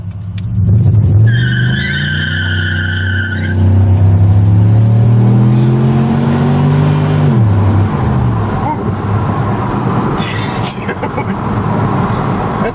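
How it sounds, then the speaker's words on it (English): A 2006 Chevy Impala SS with an LS4 engine accelerates hard, engine note climbing steadily while tires squeal in a brief high screech near the start, then the revs drop off and road roar continues close and loud. "I have never felt a car push you back so fast, like, wow."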